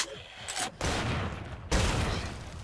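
Handgun fire from the video game Killing Floor 2: a few sharp, loud shots ring out close by, separated by brief gaps, each followed by a short ringing tail.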